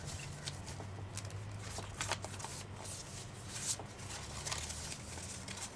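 Old book paper pulled from a Christmas stocking, handled with continuous soft rustling and crinkling close by, with small crisp peaks through the stretch and a low steady hum underneath.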